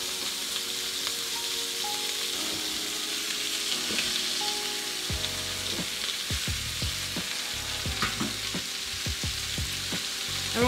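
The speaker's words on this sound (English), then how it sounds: "we're gonna get our spinach and drop it in there" Spinach dropped into a hot pan, a loud continuous sizzle and crackle of frying with scattered pops and stirring knocks, no voices.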